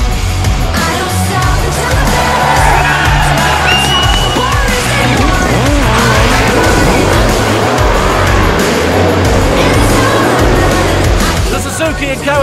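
Suzuki and Kawasaki racing motorcycles scream away from the start of the 24 Hours of Spa endurance race, a dense loud wall of revving engines with layered pitch sweeps over crowd noise.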